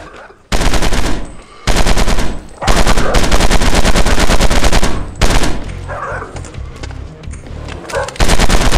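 Heavy guns in the VR shooter Death Horizon: Reloaded fire in long, loud automatic bursts, with short pauses between volleys and a few quieter moments.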